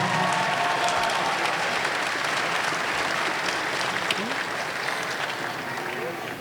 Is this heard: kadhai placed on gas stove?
no